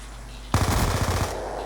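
Rapid automatic gunfire in the video game Call of Duty Black Ops 2, a loud close burst of about a dozen shots erupting suddenly after a quiet game background hum.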